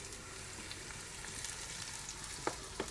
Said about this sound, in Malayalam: ഇളക്കുന്നു.